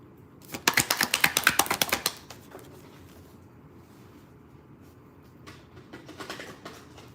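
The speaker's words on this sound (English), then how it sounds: "A card fell." A tarot card slips from the deck during shuffling, amid a loud burst of rapid riffling card flaps followed by quiet and a softer second flurry of shuffling.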